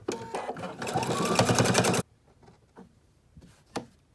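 Sewing machine stitching a placemat, a dense rapid mechanical whir of needle strokes that runs loud for about two seconds and then stops, followed by faint handling clicks and a sharp tap.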